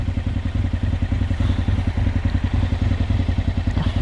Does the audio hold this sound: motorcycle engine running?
yes